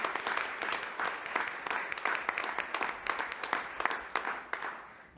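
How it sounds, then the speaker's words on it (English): A school board meeting audience gives teachers' families a round of applause, a full, sustained burst of many hands clapping that fills the room, then thins and fades toward the end. "Let's give them a round of applause"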